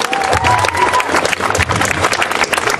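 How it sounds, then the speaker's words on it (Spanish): A crowd applauds and cheers at a university rap and hip hop event, a loud dense roar of clapping and voices that stays full and continuous. "un aplauso para todos ustedes"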